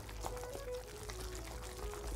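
A tablespoon of water pours into fish paste for Cantonese fish cakes, a soft, steady trickle lasting about two seconds, close and fairly quiet.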